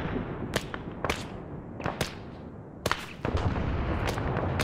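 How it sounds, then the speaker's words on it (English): Mortar fire in ArmA 3: a run of sharp, cracking distant reports, roughly eight spread irregularly over a few seconds against a steady rumbling battlefield background, no voices. "That's more mortar fire."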